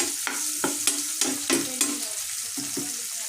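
Chillies and tomatoes fry in a pan for a spicy prawn dish, a steady close sizzle broken by a rhythmic series of sharp scraping stirs about every quarter second.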